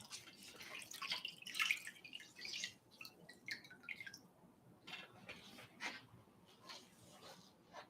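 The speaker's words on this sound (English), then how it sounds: "I'll do one more rinse." Soft water drips and splashes as a facial mask is rinsed off the skin, irregular and quiet, with a few gentle trickles close by.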